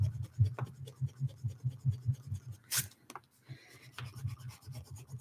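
A mechanical eraser rubs out pencil on paper in an art session, rapid rhythmic scrubbing strokes up close with a few brief pauses and scrapes.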